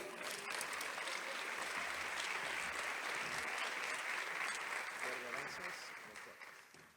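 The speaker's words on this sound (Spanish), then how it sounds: "Les pido recibamos con un fuerte aplauso a Óscar Abellón" An audience applauds a speaker's introduction at an education innovation talk, a dense, steady wash of clapping that holds loud for about six seconds before tapering off at the end.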